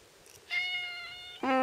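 A cat gives two clear meows close by, the second sharper and louder, with quiet background between them.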